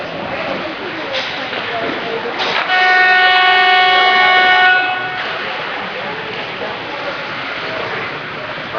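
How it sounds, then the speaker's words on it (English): A loud horn blares for about two and a half seconds at an ice hockey game, standing out over steady arena crowd noise, with commentary heard before and after it. "That's the whistle here, the horn"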